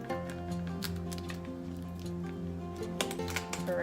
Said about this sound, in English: I'm just gonna cut this off